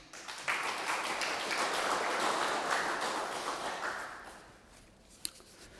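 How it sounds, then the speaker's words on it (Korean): An audience applauds at a lecture on the economic value of Hangul in a university alumni hall, a broad wash of clapping that swells, holds for a few seconds, then fades, heard from a distance. "여러분의 격려와 위로 다시 한번 박수 부탁드립니다."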